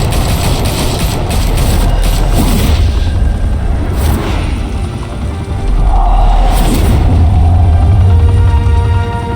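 Gunfire and heavy booms erupt in Batman: The Telltale Series, loud rolling blasts and whooshes with a dip in the middle before another burst of explosive noise.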